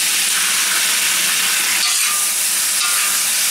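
Meat and vegetables frying hard in a cast iron wok, a loud, continuous sizzling hiss that stays steady throughout, with no voices.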